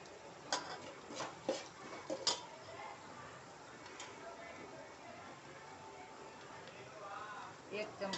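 A spoon scrapes and taps against a pan while spices are stirred into corn chevdo, a handful of sharp clinks early on and again near the end over a quiet background, with someone speaking.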